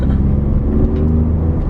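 Steady low engine drone of a Ford Raptor truck fitted with a Cobb intake, cruising on the road, heard from the cabin as a continuous near rumble without talk.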